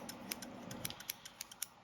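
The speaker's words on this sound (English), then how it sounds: "We've got the wonderful Painting Fairy scissors" Painting Fairy scissors snip close by in a quick run of crisp, bright metallic clicks, about ten in under two seconds, over a quiet background.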